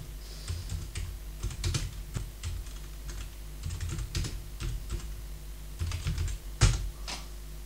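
Keys clatter on a computer keyboard as a terminal command is typed on an Ubuntu system, in quick irregular bursts of close clicks with short pauses and one harder keystroke near the end.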